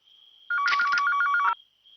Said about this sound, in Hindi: अरे भाई कोई फोन क्यों नहीं उठा रहा?